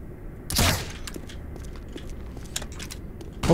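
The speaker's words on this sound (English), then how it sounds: "Oh, it's like a mounted gun." A mounted gun fires in Black Mesa with one loud, close blast. Brief mechanical crackles and ticks follow over a steady, noisy background.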